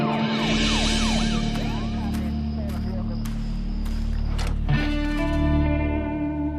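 An emergency siren wails and warbles steadily at close range, its distorted tones sweeping up and down, with a voice talking over it.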